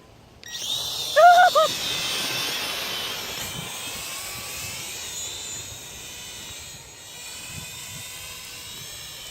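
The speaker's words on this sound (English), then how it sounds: "We're about to fly the drone for the first time." A small drone on a sailboat makes its first flight, its rotors rising from a start to a steady high whine. A brief tonal chirp comes early, then the buzzing hum holds under a hissy background, with no talking.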